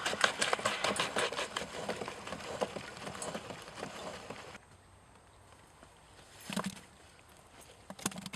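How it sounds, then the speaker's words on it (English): Apple grinder chewing through apples for cider, a rough, clattering mechanical churn that runs for about four and a half seconds and then drops to quiet, with a few scattered thumps and knocks afterward. "they can be run through the grinder, being sure to catch the ground product"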